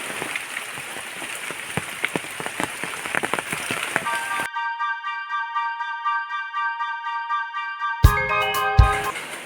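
Heavy rain pours steadily during the rainy season near a home with a clay stove, a dense close hiss of drops with scattered louder splashes, cut off midway by a soft musical tone and then a brief burst of noise.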